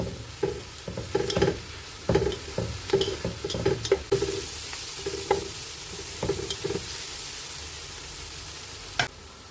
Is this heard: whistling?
no